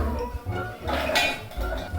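Light clinks and clatter of almonds dropping into a mixer jar, with soft rattling over a low hum.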